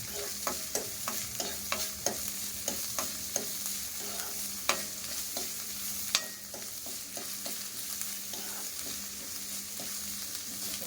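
Cluster bean curry sautéing and being stirred in a pan over a low flame, a steady faint sizzle broken by a regular series of sharp spoon-on-pan scrapes and clinks, close and alone with no voices.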